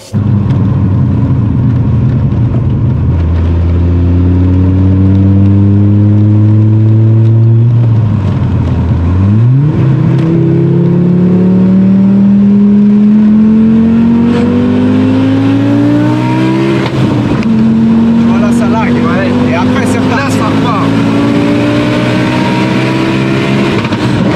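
An 864 hp car engine revving hard toward 11,000 rpm, pulling through several gears in a row with rising howls and brief dips at each shift, very loud and close with no voices.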